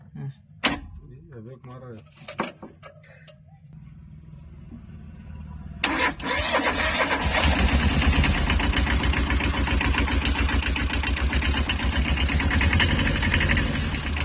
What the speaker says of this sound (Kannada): ಒಂದೇ ಸ್ವಲ್ಪ ಗಾಡಿ ಸ್ಟಾರ್ಟ್ ಆಗ್ಬೇಕು. ಈಗ ಸ್ಟಾರ್ಟ್ ಆಗಿದೆ.